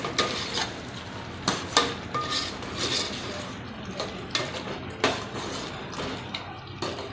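Masala with whole white cumin being stir-fried in a pan for aloo chicken salan, with a spoon scraping and clinking against the metal in irregular taps over a soft sizzle, close by.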